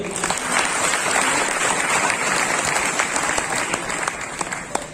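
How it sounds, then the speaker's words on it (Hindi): Audience applause at an AWPL training seminar, a steady dense clapping from a large crowd that holds at full strength for the whole stretch, close and loud with no talk over it. "चलो तालियां सर के लिए।"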